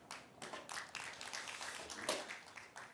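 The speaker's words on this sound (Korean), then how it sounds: "다시 한번 뜨거운 박수를 보내주시기 바랍니다" Audience applause at an environmental education forum, fairly soft and a little uneven, with separate clusters of claps rising and falling over a few seconds.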